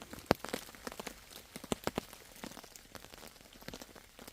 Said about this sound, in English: Still raining. You can see it dripping off the tarp.